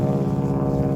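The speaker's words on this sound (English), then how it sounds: "sorry about the plane in the background." A steady low droning engine rumble, constant and fairly loud throughout, like an aircraft overhead.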